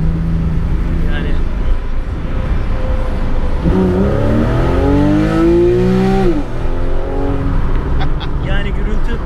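A Porsche 911 engine, heard from a car driving on the road, revs up in a rising then falling sweep, loud and close over steady engine and road roar.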